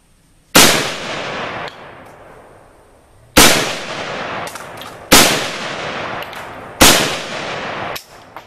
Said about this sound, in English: I'm shooting my reloads, 150 grain Sierra, soft point, reloads